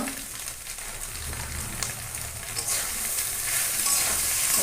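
Soybeans with salt and turmeric are stir-fried in a pan, making a continuous close sizzle with scraping stirs that grows louder toward the end, with no talking.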